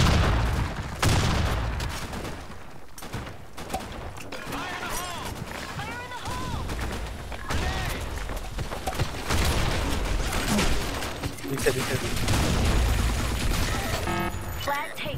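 Gunfire in the Blackshot first-person shooter game. Rapid bursts of shots and mechanical clatter continue throughout, mixed with game effects and players talking over it.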